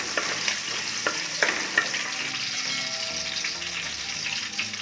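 Curry leaves frying in hot oil for mushroom pulao, a loud steady sizzle with a few sharp spatters and stirring scrapes, close and without speech.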